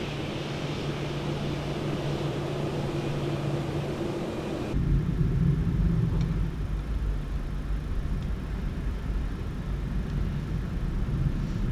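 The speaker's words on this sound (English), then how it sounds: "Even got sound of the runway below, grooving on a runway." A Boeing Business Jet rolls along a grooved runway in a flight simulator, giving a steady low rumble that shifts into a heavier, broader roar partway through and then holds.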